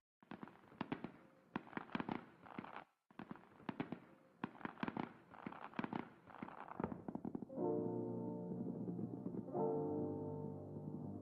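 Fireworks go off in a rapid series of sharp crackling bursts and pops, fairly distant, with a brief pause midway before the crackling trails off into a lingering low rumble.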